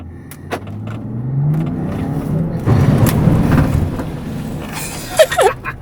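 A Range Rover, shifted from park into drive, pulls away with a low engine hum rising as it accelerates, steady and close, with brief clattering knocks near the end.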